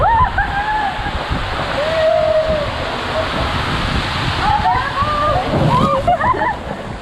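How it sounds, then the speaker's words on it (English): A steady roar of rushing, splashing water from a waterfall at a water park fills the clip, with voices talking and calling out over it throughout. "There's another waterfall."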